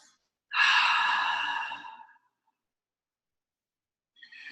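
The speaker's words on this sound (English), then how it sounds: "you can just do your loud, noisy exhale" A loud, breathy ujjayi yoga exhale lasts over a second and a half, then silence, and another forceful breath begins at the very end.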